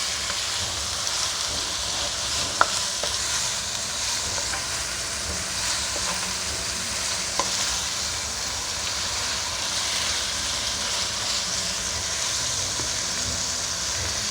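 Achari keema browning in a pan sizzles steadily for the whole stretch, with soft scraping of stirring and a couple of sharp clinks of a spoon against the pan.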